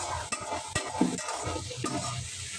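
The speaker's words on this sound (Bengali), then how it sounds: "একটু হালকা ভাজা হোক" Coriander leaves, green chili, garlic and onion sizzle lightly in hot oil, with a steady fry broken by a few sharp scrapes and clinks of stirring, close and fairly quiet.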